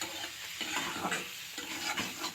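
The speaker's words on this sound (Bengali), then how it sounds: "মশলা থেকে সম্পূর্ণ তেলটা ছেড়ে আসছে, মশলাটাকে নেড়ে চেড়ে কষিয়ে নিচ্ছি" Spice paste for a fish curry with winter vegetables is stirred and fried in oil, a close, busy sizzle broken by rhythmic scraping strokes of a spoon across the pan, with no talking.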